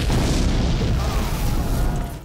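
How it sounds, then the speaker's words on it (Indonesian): A bomb goes off in a film, a loud deep boom with a rumbling blast that fills the whole moment and slowly fades at the end. "menarik pemicu bom tersebut dengan nekat dan tiba-tiba boom!"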